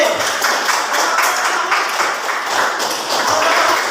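Students in a classroom clap for a group that has just presented in an Indonesian teacher-training lesson. The clapping is brief, fairly loud and somewhat uneven, with a slight pulsing rhythm.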